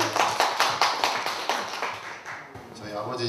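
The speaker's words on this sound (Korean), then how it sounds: "박수!" Guests at a seventieth birthday banquet clap together in a quick, rhythmic burst of applause that starts strong and gradually thins out, with voices mixed in near the end.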